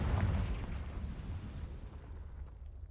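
A Confringo blasting spell explodes in Hogwarts Legacy, a loud, deep, rumbling blast at the start that rolls on and gradually dies away over a few seconds.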